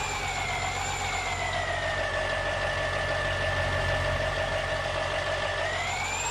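A truck engine idles in the Farming Simulator 19 video game, a steady low rumble with a sustained tonal whine above it, unbroken and fairly loud with no talking.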